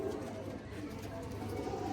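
A young pigeon cooing softly at close range, low murmuring calls under a steady background hum, with a voice talking faintly alongside.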